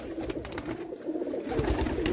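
Large-breed pigeons at a bird sale in Jammu coo in a steady, overlapping murmur, several birds close by, with scattered wing and cage clatter mixed in.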